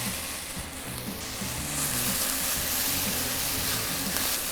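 Mushrooms sizzle and spit steadily in a hot pan as they are stirred for a cottage pie, a dense, continuous frying hiss that swells slightly partway through, with soft scraping under it and no talking.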